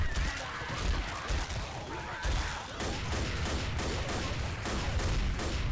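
Dense, continuous gunfire in the Left 4 Dead zombie video game, a loud sustained barrage of overlapping shots and chaotic noise with no pauses.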